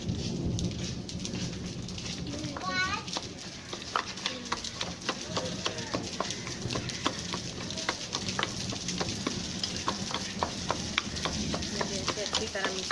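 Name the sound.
stirring and mashing chutney with chili and sugar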